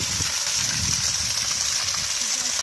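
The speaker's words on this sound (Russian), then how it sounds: "И вот этот водопадик тут." A small mountain waterfall in the Troodos mountains of Cyprus rushes with a constant bright hiss, steady and fairly close throughout, with a faint low rumble beneath and no clear talking.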